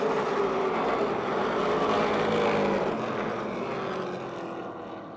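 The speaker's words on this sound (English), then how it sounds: "Poole got the whole shot, accelerating out of turn 4" Race cars at Motordrome Speedway accelerate out of a turn, a loud sustained engine roar with a rising whine that gradually fades as the pack pulls away.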